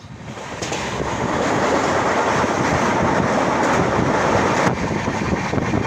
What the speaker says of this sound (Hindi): यहाँ पर हमारी ट्रेन की गति थोड़ी धीमी हुई है।